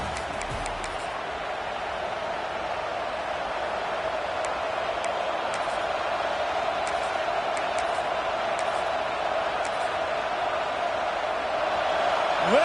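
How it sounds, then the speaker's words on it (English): A ballpark crowd roars early in the second inning to urge on the home defense, a broad, steady distant din that holds evenly and swells slightly toward the end. "Listen to this crowd just shaking the girders of this place, trying to help their defense."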